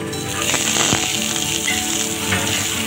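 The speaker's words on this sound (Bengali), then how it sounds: "আর সর্ষের তেল দিয়ে দিচ্ছি" Mustard oil sizzles and crackles steadily on a hot tawa over a gas flame, with a broad continuous hiss and scattered pops, close and fairly loud, no talking.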